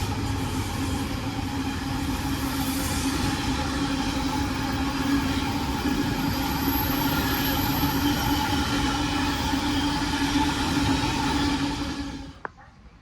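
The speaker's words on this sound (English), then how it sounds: "Passing through is a freight train running from Wembley to Tunstead" A Class 66 locomotive, number 66623, hauls a freight train from Wembley to Tunstead through a station on the Walsall line, a steady loud rumble and rhythmic clatter of wagons passing close by, ending abruptly near the end.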